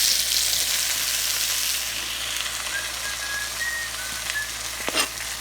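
Chopped tomato and onion sizzle in hot avocado oil in a pan, a dense, loud frying hiss that eases slightly after the first couple of seconds and then crackles on steadily, with a faint whistling tone partway through and a brief clink near the end.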